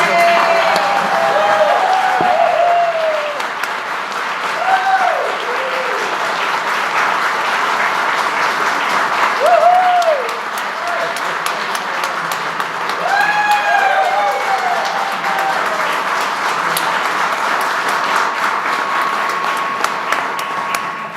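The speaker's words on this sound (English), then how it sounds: "Please join me in a round warm applause for Bill." Loud, sustained applause for Bill at the Harbor Place dedication ceremony, a large crowd clapping continuously with voices and occasional whoops rising over it.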